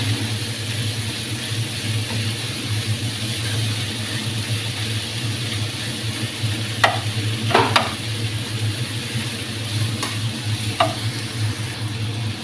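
Chicken meat frying in a pan over a steady, loud sizzle, with a few clattering scrapes and knocks of a utensil stirring midway.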